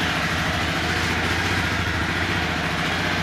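A Honda CBR 250R motorcycle engine idles steadily and close by, with a low, even rumble and no speech over it.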